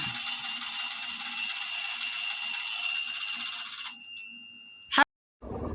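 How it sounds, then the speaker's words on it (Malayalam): A clock alarm rings loudly and continuously for about four seconds, then cuts off, followed by a short sharp clunk and low background rumble. "ക്ലോക്കിൽ അലാറം അടിച്ചു ഗായ്സ്"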